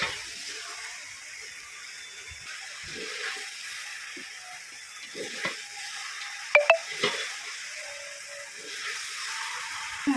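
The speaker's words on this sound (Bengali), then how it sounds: "একটু নেড়ে নিই।" Raw mango pickle being stirred with sugar in a pot over a clay stove, soft scraping and stirring with a faint sizzle throughout, a few sharper clinks of the spoon near the middle, no talking.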